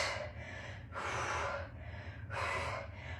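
Heavy, forceful breaths during a continuous triceps workout: three loud, close, airy exhales in a steady rhythm, each lasting about half a second, over a low background hum.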